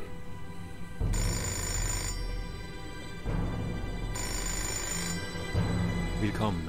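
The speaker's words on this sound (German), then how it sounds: "Ah, Telefon." In the video game Fahrenheit, a telephone bell rings in two long bursts separated by a pause, loud and close, with game background music and ambient sound underneath.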